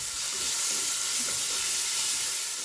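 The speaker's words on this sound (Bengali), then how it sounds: "গরম তেল, একটু লঙ্কা, একটু ফোড়ন দিয়েছি, কালো জিরে আর টমেটো আর একটু নুন আর হলুদ দিয়ে ভাজছি" Tomato, black cumin, salt and turmeric fry in hot oil for a fish curry, a dense, even sizzle close by with no talking.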